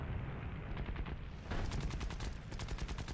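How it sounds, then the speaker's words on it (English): Aircraft machine guns on a Japanese plane in the video game War Thunder fire in a rapid, continuous stream of closely spaced shots over a steady engine drone, growing sharper partway through. "let's try to do something with my machine guns"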